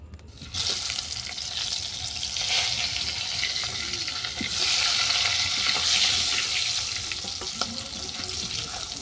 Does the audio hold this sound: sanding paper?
no